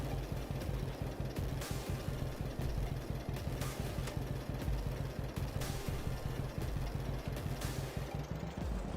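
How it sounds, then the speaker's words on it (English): A tractor engine in a farming video game ploughs and seeds, a steady low rhythmic chugging that runs continuously at moderate level beneath faint ambient noise. "You can hear the tractor."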